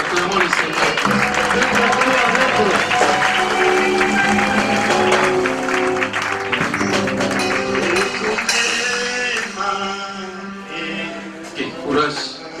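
A church congregation applauding at a dedication service, loud sustained clapping mixed with music and voices, tapering off toward the end.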